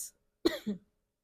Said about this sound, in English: I'm sorry, I have cough.